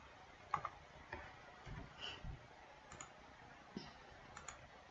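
Computer mouse clicks during 3D modeling of a wooden room, a series of soft, sharp, irregularly spaced clicks, close and quiet against a near-silent background.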